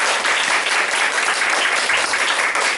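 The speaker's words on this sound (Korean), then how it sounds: "박수로 환영하겠습니다" Steady, loud applause from a church congregation at a Sunday worship service, welcoming visiting elders from another church, continuous and dense for about three seconds with no other sound.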